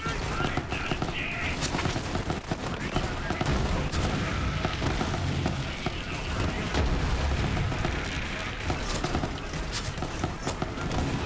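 Dense, continuous gunfire from Borderlands 3 with the Bearcat weapon, rapid shots and booms crowding together into a loud, steady barrage, with voices talking over it.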